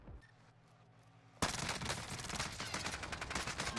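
Gunfire in Call of Duty Warzone, with a sniper in play: a sudden loud shot breaks a quiet stretch, then rapid repeated reports follow in a dense, sustained volley.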